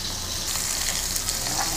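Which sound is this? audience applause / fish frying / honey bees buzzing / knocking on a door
fish frying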